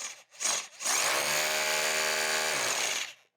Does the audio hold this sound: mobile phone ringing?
no